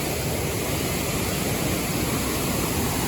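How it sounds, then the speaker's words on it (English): A large waterfall in Brazil roars as a steady, dense broadband rush of falling water, loud and close with no pauses or other sounds. "I'm not used to see so bigger waterfalls."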